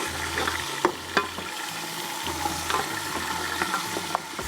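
Sliced red onions frying in oil in a pan as a little water is poured in, steady crackling sizzle with clinks of a spoon stirring, close and moderately quiet.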